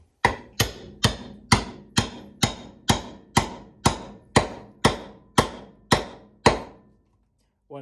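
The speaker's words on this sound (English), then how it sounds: "Just place it right there on top and smash it with a hammer." A hammer striking a part of an IKEA DALFRED bar stool into place during assembly: about thirteen sharp evenly spaced metallic blows, loud and close, each ringing briefly before the next, then stopping.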